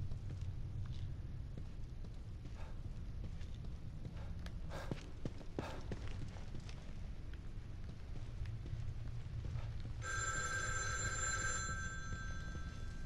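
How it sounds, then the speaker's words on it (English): A telephone starts ringing in the video game The Evil Within 2, a bright electronic ring that cuts in near the end after a stretch of quiet ambience and faint footsteps. "Who's ringing me?"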